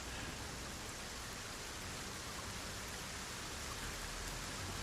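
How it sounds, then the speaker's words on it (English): Rain falling steadily in the Satisfactory video game, a faint, even hiss of downpour with no voices over it. "Okay, it's raining."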